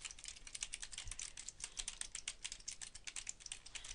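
Rapid, steady clatter of keys on a computer keyboard, close and continuous with no voices.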